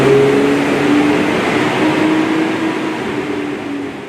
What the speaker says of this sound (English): This Flowmaster Force 2 exhaust system is perfect for the person looking for a modern exterior and mild interior sound